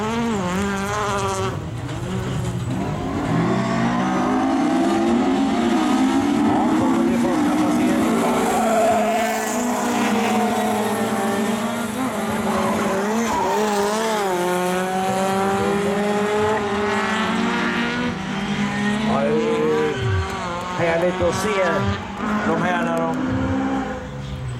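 Rallycross cars in the Super Cup over-2150 class race at Kinnekulle Ring, their engines rising and falling in repeated high-revving sweeps, several cars heard in turn beneath steady live commentary.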